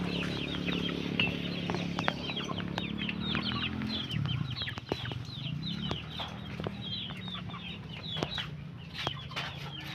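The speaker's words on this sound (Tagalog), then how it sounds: "Pakan tayo ti manok." Chickens clucking at feeding time, many overlapping short clucks and chirps from a flock, close by and continuous over low rumbling background noise.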